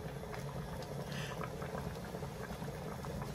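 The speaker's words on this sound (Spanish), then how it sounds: "Esperamos a que hierva más, que se cocine" Pork ribs in a green mustard sauce boil in a pot, a steady, soft bubbling simmer that continues without pause and without talk.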